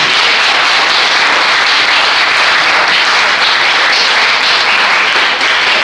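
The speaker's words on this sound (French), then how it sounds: "Ici, c'est non, on les applaudit." Loud, dense applause from a large audience at a peace tour event in Togo, a continuous roar of clapping hands sustained evenly throughout without talk.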